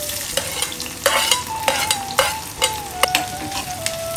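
Small shallots frying in hot oil with mustard seeds and fenugreek for a fish curry, a steady loud sizzle broken by regular scraping stirs of a spoon, close up with no talk.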